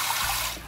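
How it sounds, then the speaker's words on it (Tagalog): Water poured into flour to make dough in a home kitchen in India, a brief steady splashing trickle heard up close with no talk, tapering slightly at the end. "maglalagay tayo ng tubig"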